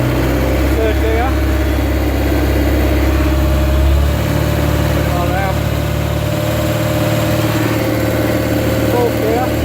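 A car engine pulls steadily in third gear, its loud drone filling the cabin with a constant hum and a drop in low rumble partway through.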